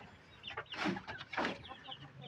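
A two-week-old Rhode Island Red chick clucks in a few short bursts, close by, with soft rustling and faint chirps in the background.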